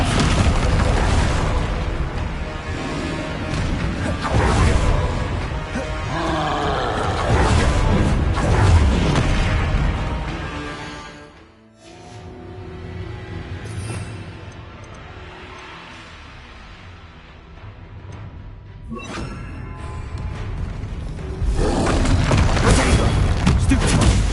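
Dense, loud booming spell impacts and bursts from Descendo and other combat magic in Hogwarts Legacy roll over one another, dipping briefly to quieter rumble midway before surging back to full-strength blasts.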